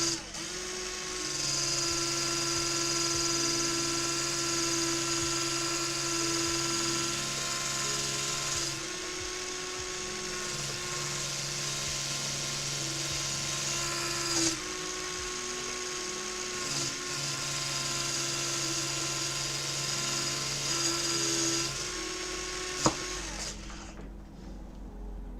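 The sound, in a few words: electric polisher running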